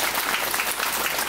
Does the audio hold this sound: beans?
no